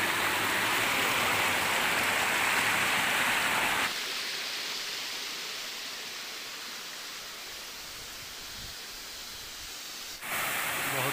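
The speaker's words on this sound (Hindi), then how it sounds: "ये आपका पहला झरना, ये पानी नीचे बहते हुए जा रहे हैं" Steady rushing water from a waterfall at Patratu, a broad continuous roar that drops in level partway through and then swells again near the end, with no speech.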